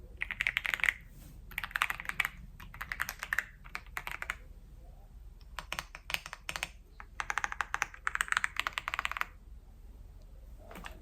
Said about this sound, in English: the Ippo Maker Aula 99 mechanical keyboard, and I am not kidding when I say this is the last mechanical keyboard I will ever need.